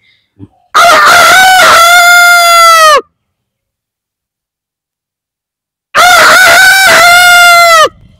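A man imitates a rooster's crow twice, each call a loud, close, drawn-out cock-a-doodle-doo lasting about two seconds, separated by a few seconds of silence.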